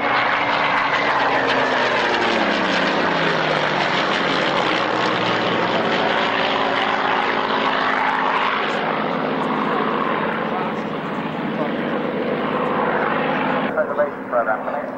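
A vintage warbird, apparently a Spitfire-type propeller aircraft, drones loudly and steadily overhead at an airshow, its engine tone sliding gradually lower as it passes, with a commentator talking over it throughout.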